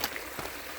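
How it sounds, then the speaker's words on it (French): Small mountain stream on a hiking trail flowing with a soft, steady wash of trickling water, faint and continuous with no voices. "Ici, il y a un beau petit ruisseau, tu vois"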